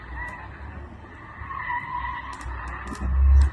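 Group B rally car, an MG Metro 6R4, driving on a rally stage, its engine note rising and surging with tyre skid, ending in a loud close pass with heavy low rumble.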